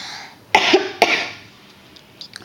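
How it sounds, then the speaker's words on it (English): A narrator's two short coughs in quick succession, close and fairly loud, followed by quiet. "Sorry, I have a little cough."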